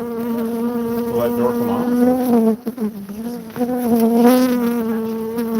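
A swarm of killer bees in an old cupboard buzzes loudly and steadily as a dense, droning hum, briefly dipping once, while a person speaks over it.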